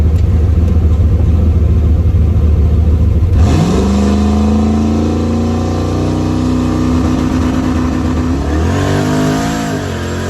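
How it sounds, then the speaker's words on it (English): A turbocharged hatchback sits rumbling on a street, then launches hard, its engine note climbing steadily and loudly through a long pull before shifting briefly near the end. "let's make a launch on the street real quick before we get to the house"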